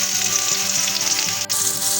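Tomatoes cook in a hot pan with a steady, loud sizzle and crackle of frying oil, close up and continuous with no talking.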